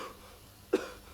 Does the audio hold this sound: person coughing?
yes